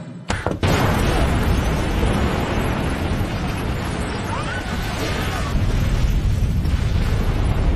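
Bomb explosion in the 2018 film Impossibility Defense: a sudden loud blast that swells into a sustained, dense roar lasting several seconds.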